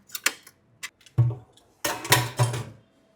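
A spoon stirs ranch sauce made with fresh dill and lemon juice in a bowl, making several close, light clinks and scraping taps in short irregular bursts separated by quiet pauses.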